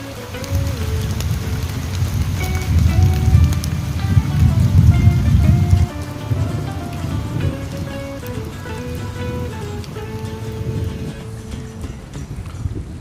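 Rain falling outdoors in Korea, soaking the soil: a steady, fairly close patter on surfaces for the whole span, heavier at first and easing after the middle, with no talk.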